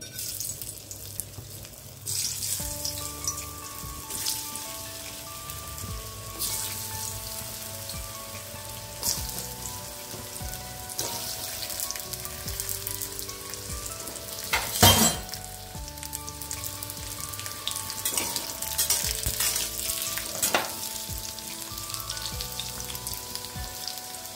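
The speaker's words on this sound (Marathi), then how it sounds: "आता हे तूप गरम झालं की आता आपल्याला हे काप टाकायचे असे" Sweet potato slices fry in hot ghee over a medium flame, giving a continuous close sizzle and crackle for the whole stretch, with occasional sharp pops and a steady melodic background tune playing underneath.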